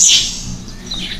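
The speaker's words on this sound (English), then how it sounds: "He's chirping like that, that means like he's really happy and he wants some more." A baby bird chirps while it is hand-fed, giving one bright high chirp at the start and a fainter call near the end, heard close up with no talking.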